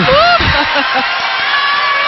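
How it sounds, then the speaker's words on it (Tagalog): A loud volleyball crowd roars and cheers in an arena, with whoops and shouting voices layered over a dense, sustained wall of noise from near and far. "And listen to the crowd roar!"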